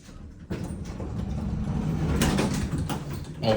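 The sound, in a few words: hydraulic elevator arriving, doors opening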